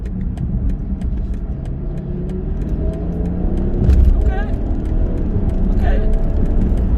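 A BMW with a B58 engine and JB4 tune races a Mercedes GLE 63, heard from inside as a steady, loud engine drone and road rumble, rising slightly around the middle, with a person talking over it.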